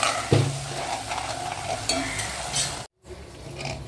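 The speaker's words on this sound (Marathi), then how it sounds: "आता पण एक आळू ह्याच्यात ओतून घेऊया" Taro leaves tipped into hot oil tempered with asafoetida and a green chilli, giving a sudden close sizzle that settles into steady frying with stirring scrapes, then a brief silent gap before the frying resumes.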